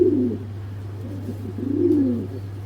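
A female racing pigeon coos close by in soft, low, rolling phrases, two of them in under three seconds, over a steady electrical hum.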